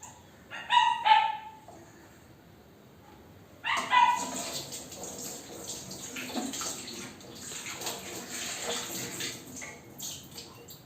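A hungry dog lets out a couple of short, loud barks and yelps near the start, then a few whines, over a steady rushing, water-like background noise.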